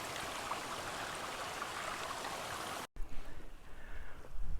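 Steady rushing water of a small feeder stream to Ennerdale Water fills the first few seconds, then cuts abruptly to quieter outdoor ambience with low rumbling handling noise.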